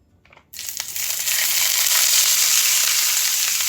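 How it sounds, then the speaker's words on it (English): Sizzling vegetables with minced garlic in a hot frying pan, a bright steady hiss that jumps in after a brief quiet moment and holds loud and continuous. "you hear that sizzle?"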